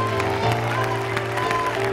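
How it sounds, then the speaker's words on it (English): Hands clapping together from a congregation at a revival service, a steady two-second burst of applause set against sustained musical tones. "Somebody clap your hands like you're ready to take back what the enemy took."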